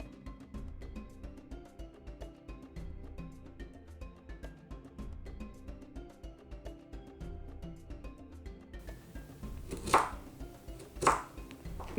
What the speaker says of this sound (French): Donc, on va couper ça, que c'est trop dur.